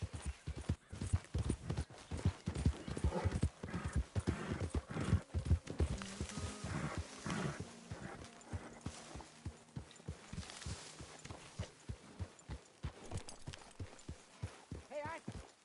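Horse hooves clop in a steady walking rhythm in the video game Red Dead Redemption 2, near and clear, with a horse whinnying partway through and a voice speaking occasionally.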